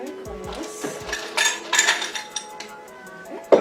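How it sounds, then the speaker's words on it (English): Ice cubes clink and rattle into a cup for a cocktail, a few short clattering bursts with a sharp knock at the end. "first we're going to get some ice in our cup"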